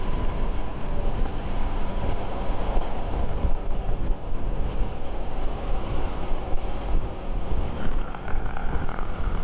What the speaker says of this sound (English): it is windy today too.